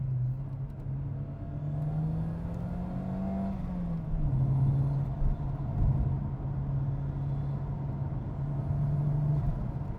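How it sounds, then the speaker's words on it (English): A Toyota Celica GT-Four engine hums steadily as it drives, its pitch rising and dipping, with a faint high turbo whistle above the motor drone. "that's turbo sound"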